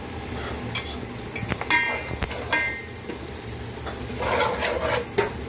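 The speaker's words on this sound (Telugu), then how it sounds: "ఇలా ఆయిల్ సపరేట్ అయిన తర్వాత కడిగి పెట్టుకున్న మాంసం ముక్కలు వేసుకోవాలి." Washed country chicken pieces drop into hot oil and sizzle, with scraping stirs and a few sharp clinks from a utensil against the pan, the frying swelling louder toward the end.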